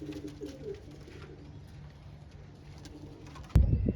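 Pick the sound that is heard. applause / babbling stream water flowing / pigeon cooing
pigeon cooing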